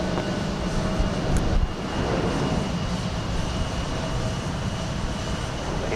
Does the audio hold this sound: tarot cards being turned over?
no